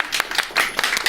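Audience in a classroom gives a brief burst of clapping, a handful of uneven claps in quick succession from a small group, fairly close and moderately loud, lasting about a second.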